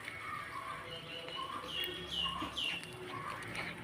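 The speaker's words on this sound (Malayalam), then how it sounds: "കിളി ഭയങ്കര ഒച്ചയാക്കിക്കൊണ്ടിരിക്കുകയാണ് കേട്ടോ" Birds call repeatedly, sending out sharp chirps in a steady series over a constant background hum, fairly clear but not very close.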